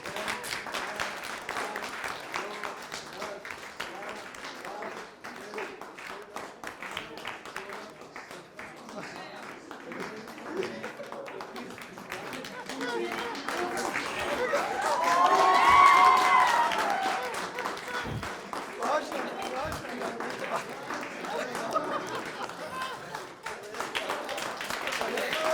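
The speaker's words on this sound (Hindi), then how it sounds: "ताली बजाइए।" Audience applause at a political gathering, sustained clapping from a crowd that swells to a peak midway, with voices talking throughout.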